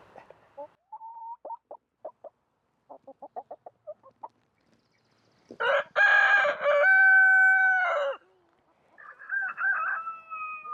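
A hen that is not broody makes a string of short, soft clucks, then breaks into louder drawn-out squawking calls, heard close and alone in a quiet setting.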